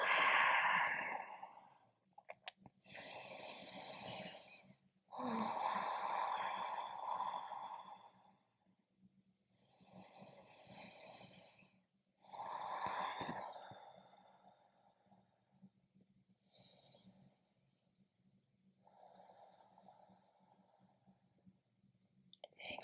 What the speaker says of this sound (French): on va prendre 5 respirations ici